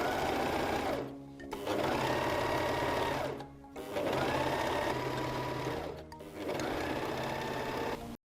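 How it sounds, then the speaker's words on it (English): A Gritzner 788 sewing machine stitches cotton fabric, a loud, close, steady mechanical whir running in long bursts broken by three brief pauses, with no talking. "We now sew a cotton fabric first and then look at the jersey."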